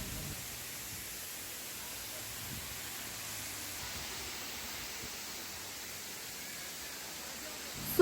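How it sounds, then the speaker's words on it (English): Khor Fakkan waterfall roaring as a steady, dense rush of falling water, constant and unbroken throughout, with no other sounds standing out. "Now let me give you a quick view of this beautiful waterfall."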